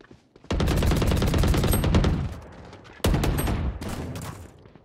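Rapid bursts of automatic gunfire from a tactical shooter video game, two loud dense volleys separated by a brief pause, close and dominating with no talk.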